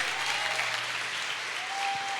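A church congregation applauds in praise of God, a steady, full wash of clapping from many hands throughout.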